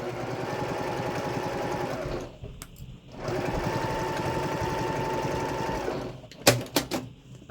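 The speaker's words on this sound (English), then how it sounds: "So I'm going to back stitch at the top and bottom." A sewing machine runs in two steady bursts of rapid, close, buzzing stitching while back-stitching a seam on a small zipper bag, with a short pause between and a few clicks and handling knocks at the end.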